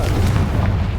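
A Confringo fire spell blast in a Hogwarts Legacy boss fight makes a dense, loud booming burst that rumbles on with a heavy low-end roar.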